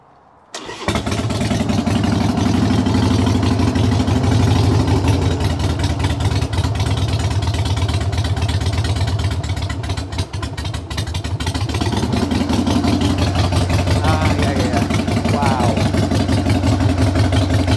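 A Triumph Bonneville Scrambler motorcycle engine starts abruptly and runs loud and close, a throbbing idle with a blip of revs partway through; a voice murmurs briefly underneath.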